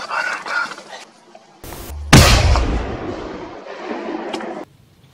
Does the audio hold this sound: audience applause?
no